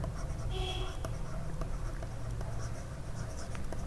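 Fingers tap on a computer keyboard while entering a COUNTIF formula in an Excel sheet, a string of quick, close clicks over faint background hiss.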